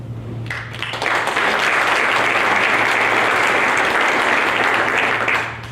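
A conference audience at a day-of-action event claps for a speaker describing fifteen years in recovery, rising quickly into dense, sustained applause that holds steady for several seconds before tapering off, loud and close with a low steady hum underneath.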